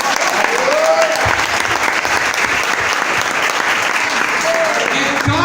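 A large church congregation claps steadily and loudly indoors at an Assembleia de Deus service, a dense continuous applause with a faint voice rising briefly beneath it.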